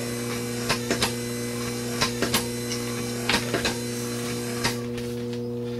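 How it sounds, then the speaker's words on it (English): A wiper motor drives a rocking prop with a steady electric hum and buzz, joined by soft periodic clicks and knocks as the prop rocks back and forth. "this is going to start operating as soon as you plug it in"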